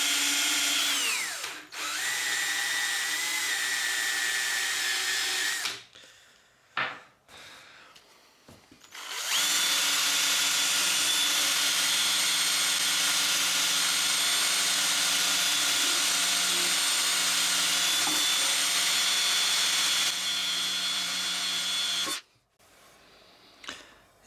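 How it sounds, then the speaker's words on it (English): A power buffer polishes a pitted chrome rear rack from a Suzuki Boulevard C50 with polishing compound, a loud sustained whine running for long stretches, stopping briefly and restarting, with almost no talk. "Now let's just give it a quick buff up and see how it comes up."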